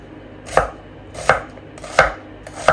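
A knife chopping red onions on a board, four firm, evenly spaced cuts roughly every 0.7 seconds, close and clear with no talking.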